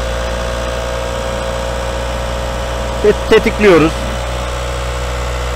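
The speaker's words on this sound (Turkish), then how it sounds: "Bu arada araç çalışıyor." A vehicle engine idles with a steady, low, even drone that runs throughout, while someone speaks briefly over it near the middle.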